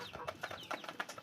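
An old, balding hen on a farm clucks in a rapid series of short, close calls with no talk.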